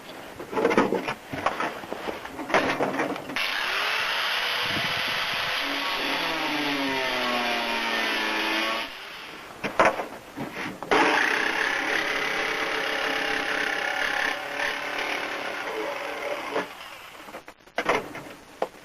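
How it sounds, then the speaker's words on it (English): A jigsaw fitted with a steel cutting blade cuts sheet steel for a chimney register plate, with a loud sustained buzzing rasp in two long passes, separated and framed by brief clanks and handling noises. "I'm going to cut up to the corners each way with the steel cutting blade on the jigsaw"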